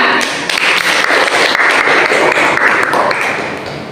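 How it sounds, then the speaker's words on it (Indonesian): A classroom group claps for the third presenting group during a teaching competition, a dense, loud burst of applause lasting a few seconds before trailing off. "Oke, beri aplaus buat kelompok 3."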